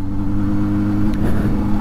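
A Honda Hornet 600 motorcycle engine hums steadily at close range during a ride through a series of bends, then rises in pitch as it accelerates near the end.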